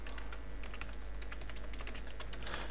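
Rapid, light clicking of keys on a computer keyboard, close and steady with uneven bursts of keystrokes and no voices.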